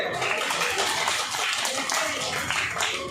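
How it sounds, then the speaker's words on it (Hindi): Loud, dense clapping by guests at a home birthday party, continuous and close for the whole stretch before stopping abruptly, with voices mixed in. "तालियां जोर से।"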